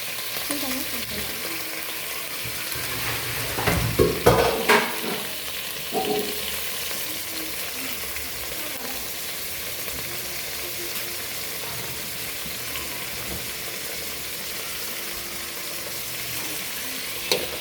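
Drumstick and brinjal pieces fry in oil in a pan, a steady low sizzle with a cluster of clattering stirs and scrapes around the fourth to sixth seconds, then even crackling alone.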